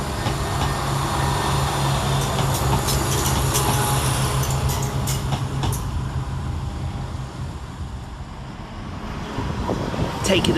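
Coupled Class 172 diesel trains, 172-221 and 172-342 on a West Midlands Railway service, roll into Birmingham Moor Street station with a steady low rumble and rail clatter, close and continuous, with a few metallic squeals and clicks.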